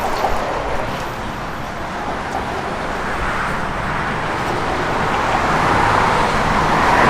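A 1981 Chevrolet Blazer K5 restomod on the move, its engine and road noise forming a steady, fairly loud rumble that holds for the whole stretch, with tire roar and wind mixed in and no talking.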